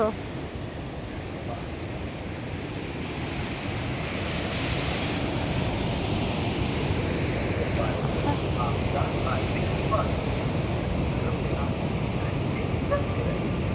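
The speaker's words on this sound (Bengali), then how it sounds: "জলের শব্দটা শুনতে পাচ্ছ?" Water rushes continuously at the waterfall in Rewa Eco Park, Madhya Pradesh, a broad steady roar mixed with wind buffeting the microphone, with a voice speaking over it.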